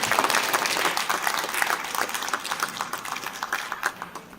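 Crowd applause at an International Women's Day awards celebration, dense sustained clapping from many hands, loud and steady before easing slightly toward the end.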